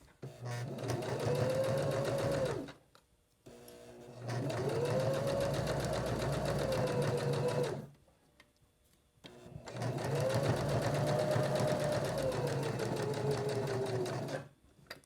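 A sewing machine stitches a fabric glasses case in three sustained runs of rapid, even whirring, each lasting a few seconds and separated by brief pauses while the work is turned.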